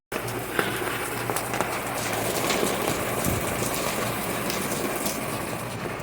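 Steady rain falling on an umbrella, a dense close patter that runs continuously with scattered sharper drop hits and no talk.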